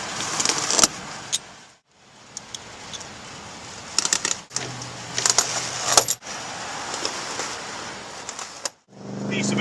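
Winter tire chains on a car wheel clink and rattle metallically in short bursts separated by brief pauses as the side chains are tightened, with quiet speech in the background.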